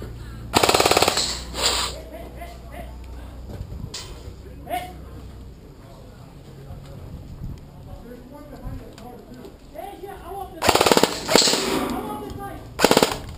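Machine gun cover fire rattles in a video game in loud rapid bursts, one near the start and more near the end, with quieter chatter between and people talking throughout.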